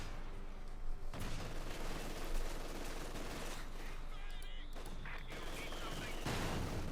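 Machine gun fire and battle noise from a Company of Heroes 2 match, a dense continuous clatter of gunfire and rumbling explosions that runs the full length at steady loudness, with commentators talking over it.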